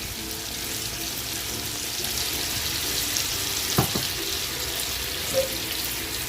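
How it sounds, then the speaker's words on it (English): Butter and garlic sautéing in a pan just used for boiling potatoes, a steady close sizzle and hiss running throughout with a couple of brief clinks of a utensil, no voices. "I'm gonna saute this for 5 minutes."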